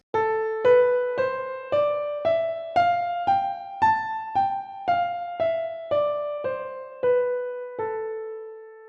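An A natural minor scale played one note at a time, climbing steadily then descending, each note struck cleanly and left to ring briefly before the next.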